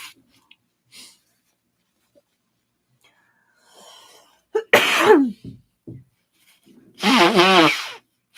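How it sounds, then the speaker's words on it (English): Someone blows their nose indoors in two loud, wet honking bursts separated by quiet, with faint rustling and breathing in between. "I just have to blow my nose."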